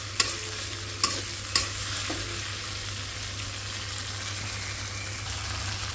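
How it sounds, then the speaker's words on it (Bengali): Tomatoes sauté in hot oil in a pan, a steady moderate sizzle broken by three sharp utensil clacks early on, then a continuous even crackle. "টমেটোটা দিয়ে একটু কষায় নেই।"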